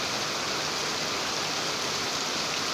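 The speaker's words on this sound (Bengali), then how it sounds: "বৃষ্টির আওয়াজ" Steady rain falls over a street, a continuous even hiss of drops that stays constant throughout without any voices.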